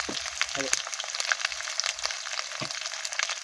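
Eggplant curry frying in a pan as ginger is added, a soft continuous sizzle with a few faint stirring clicks, quiet and close, with a brief murmur of voice in the background.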